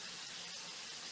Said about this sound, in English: So I'm just gonna fill this with water